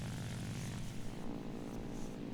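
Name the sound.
aircraft engine in War Thunder video game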